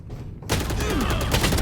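Weapon skin finisher effect in Valorant during a match on a new map: a sudden loud burst of rapid gunfire-like crackling that kicks in after a short quiet lead-in and carries on to the end.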